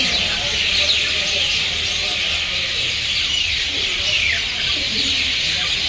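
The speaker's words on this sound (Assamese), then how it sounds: "পূৰা একদম চৰাই চিৰিকটি ভৰ্তি হৈ গৈছে মানে চবগিলা নিজৰ বাহাত আহি গৈছে" Many birds chirp and twitter at dusk as they return to roost in the hills, a dense, continuous chorus of high calls at a moderate distance.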